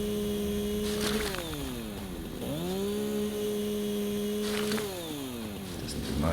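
A chainsaw in the game Satisfactory clears plants: a steady, loud droning buzz that sags in pitch as it bites, recovers, then dips again as the blade cuts through vegetation.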